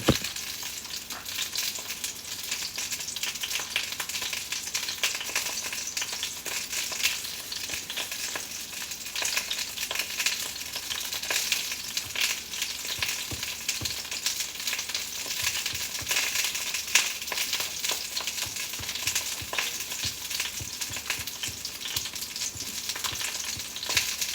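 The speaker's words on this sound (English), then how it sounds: "Can you hear how they're sizzling?" Sausages sizzle steadily in a frying pan, a dense crackling hiss with small pops throughout, close and fairly quiet, no voices.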